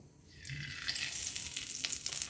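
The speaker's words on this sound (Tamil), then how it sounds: "எண்ணெய் சூடாயிடுச்சான்னு ஒரு கருவேப்பிலையை போட்டு பார்ப்போம்." A curry leaf dropped into hot coconut oil, heated for frying Chicken 65, sets off a crackling sizzle that builds quickly and then holds steady, soft and close with no voices.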